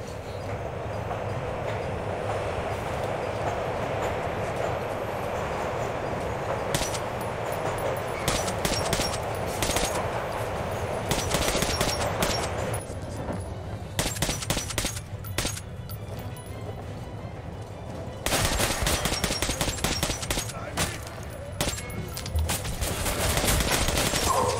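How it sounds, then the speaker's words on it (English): Sustained automatic gunfire rattles during a train chase in Metro Last Light Redux, with rapid bursts cutting in and out over the constant rumble and clatter of a moving rail car. "And then fucking guns are blazing."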